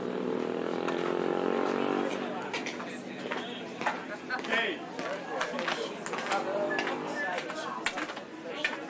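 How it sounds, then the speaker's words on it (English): Several motorcycles roar past loudly near a Teener League baseball game between Laurel Highlands and Uniontown, their revving engines rising and falling across the clip over steady crowd chatter and talk. "Actually, some motorcycles."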